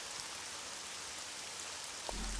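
Steady rain in the video game Nancy Drew: Legend of the Crystal Skull, a soft continuous hiss of falling drops at low volume, with a brief low thump and hum entering near the end.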